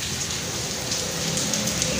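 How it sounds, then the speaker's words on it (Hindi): Heavy rain falling steadily outside a house, a dense continuous hiss with scattered drop impacts, loud and unbroken with no talk. "बारिश जो है वो हो रही है काफ़ी"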